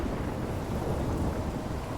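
Thunderstorm in the game Life is Strange: a dense, steady wash of heavy rain with a low rolling thunder rumble, loud and continuous with no voices.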